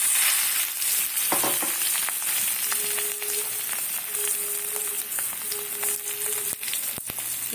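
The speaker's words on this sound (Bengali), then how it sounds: "এই দিয়ে আলুটাকে সুন্দর করে ভেজে নেব প্রথমে" Potatoes fry in a pan with Kashmiri chili powder and turmeric, giving a steady, close sizzle with occasional stirring scrapes and light clinks and no talking.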